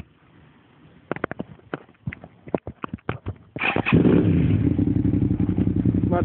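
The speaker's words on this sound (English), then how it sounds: "We're apparently posting exhaust clips, so my car is lame and boring and it sucks, so figured I'd go with the bike," A Suzuki SV650 motorcycle fitted with a Scorpion exhaust is heard up close: a few scattered clicks and knocks, then the engine catches and settles into a loud, bassy, steady idle burble.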